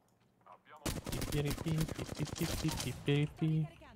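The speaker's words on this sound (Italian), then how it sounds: "Dove senti gli spari" Rapid bursts of game gunfire crackle over someone talking, with a short loud burst toward the end.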